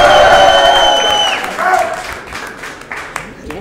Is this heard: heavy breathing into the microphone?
no